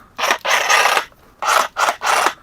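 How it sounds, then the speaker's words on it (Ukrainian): A DeWalt power-tool battery being unpacked from its packaging gives several close, loud bursts of rasping, rubbing scrapes separated by short pauses, with no talking. "Відкриємо ось один акумулятор."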